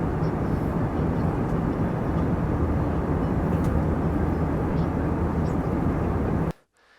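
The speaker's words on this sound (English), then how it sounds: "I'm going to try to put in here a short video of Reagan on an airplane" Steady, loud broadband roar of an airplane cabin in flight, a constant dense rumble and hiss filling the space, cutting off abruptly near the end.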